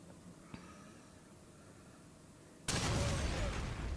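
An explosion in the video game Resident Evil Revelations 2 erupts suddenly as a loud, sustained broadband roar that drowns out the quiet ambience heard before it, following a single faint pop.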